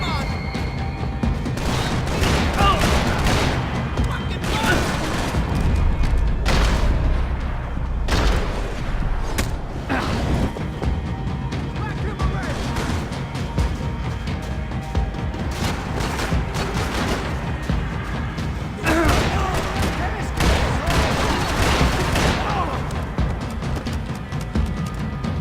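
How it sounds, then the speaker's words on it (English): Gunfire in the video game Max Payne 3: dense bursts of shots and booming impacts come in waves over a constant loud backdrop of game music and effects, with voices talking throughout. "Gunfire over"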